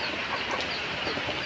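Chickens clucking in a flooded yard where the coop was overtaken by floodwater, a close, continuous busy murmur of clucks under loud background noise.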